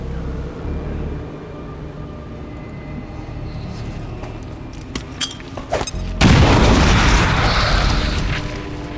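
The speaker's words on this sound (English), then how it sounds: "And you're going to throw your incendiary grenade down onto the sectoid." An incendiary grenade detonates on a sectoid in XCOM 2: rumbling game ambience and scattered sharp cracks, then a loud, close, sustained blast roars up and burns on to the end.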